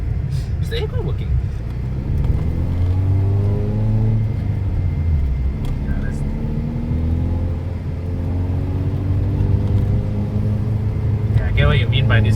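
A BMW E30 fitted with a Japanese engine drives and accelerates, engine tone rising and sweeping in a low rumble inside the cabin while occupants talk over it.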